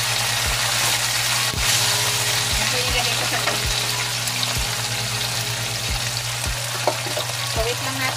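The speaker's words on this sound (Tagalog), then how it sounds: "Maluto yung ating fish." Fish seasoned with ground black pepper and salt fries in a pan, giving a continuous loud sizzle under a steady mechanical hum with regular low thumps.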